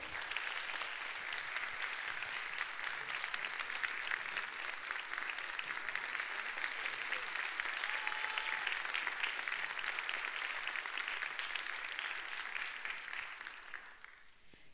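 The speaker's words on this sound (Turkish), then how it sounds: "kıymetli alkışlarınızla koro şefimiz Sayın Neşe Sav'ı davet ediyorum" A concert audience gives sustained applause to welcome the conductor of a children's choir, a dense, steady wave of clapping lasting well over ten seconds before tapering off at the end.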